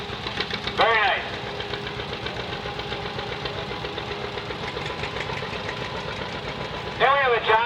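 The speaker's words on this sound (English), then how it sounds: "Then we have a John Deere A. It looks like Travis Krieger's dad's tractor. Looks to be like a 1951." A John Deere A two-cylinder tractor from about 1951 runs in a thresheree parade. Its uneven, knocking putt carries steadily throughout, with crowd noise around it and brief squealing sounds near the start and end.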